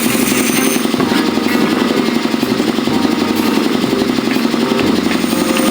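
A dental drill whirring in the video game Grim Fandango, a loud, steady mechanical buzz with a rattling, jackhammer-like pulse that runs unbroken for several seconds.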